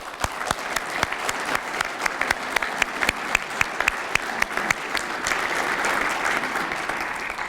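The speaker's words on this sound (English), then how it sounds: "deserves a huge round of applause here this morning" Applause from a breakfast morning audience honouring women in a sports organisation, with distinct near hand claps punctuating a growing wash of clapping that thickens into steady, dense applause by the end.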